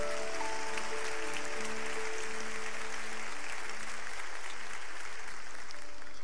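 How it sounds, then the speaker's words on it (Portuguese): A church congregation applauding, a sustained wash of clapping heard from a distance at fairly low level, with faint sustained tones and no speech. "Você pode aplaudir ao Senhor."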